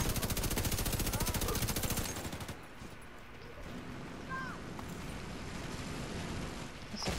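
Rapid automatic gunfire rattles in The Division 2, a dense sustained burst for about two seconds, then fading into a quieter battlefield ambience with occasional distant shots.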